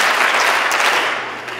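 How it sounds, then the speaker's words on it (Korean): A church congregation claps hands together during a Father Says game in a sermon, a short loud burst of scattered applause that thins out quickly. "Father Says, clap your hands."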